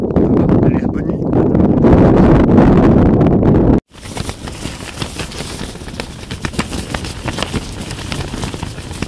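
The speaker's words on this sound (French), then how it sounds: "C'est venteux par ici, hein." Heavy wind in Oman roaring against the microphone, then a sudden cut to softer gusty wind noise with faint talking underneath.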